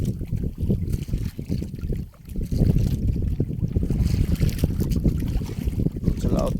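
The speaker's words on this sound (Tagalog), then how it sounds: "lakas lakas na yung hangin" Strong wind from a typhoon buffets the microphone at the shoreline in heavy, uneven gusts, with a brief lull before the roaring resumes.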